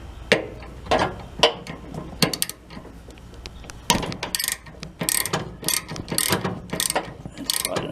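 Up close, a ratchet wrench works a stud loose on a Craftsman riding mower, its pawl clicking in quick bursts and irregular runs of rapid ticks, broken by short pauses.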